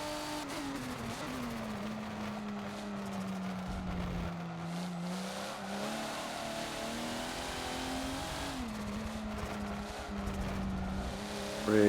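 A race car lapping Mugello in the Forza video game, its engine droning steadily and shifting pitch as it accelerates and slows through corners, with brief tire noise, fairly quiet and with no talk.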